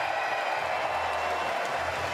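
Basketball arena crowd at a Great Britain versus Greece game, a steady broad roar of cheering spectators filling the space without pause, loud and continuous with no clear individual voices.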